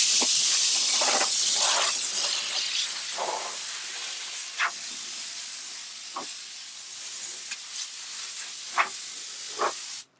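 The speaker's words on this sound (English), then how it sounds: "So we used our compressor here, but the damp cloth will do the same job." An air compressor blows paint dust off a bookcase with a loud, close hiss of rushing air that fades after a few seconds, followed by short separate bursts of air.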